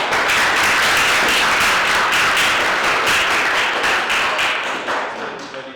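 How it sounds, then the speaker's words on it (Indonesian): An audience applauds after a group presentation at a school science event, the clapping dense and sustained across the whole stretch before fading slightly at the end. "Kita berikan tepuk tangan."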